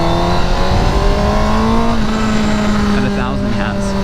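A 2019 Honda CBR1000RR SP motorcycle engine drones loudly and steadily while riding, with a rising and falling pitch under wind rush and a voice talking over it.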